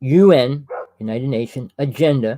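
A pet dog trying to get indoors barks and whines in short bursts that overlap with a man's speech close by.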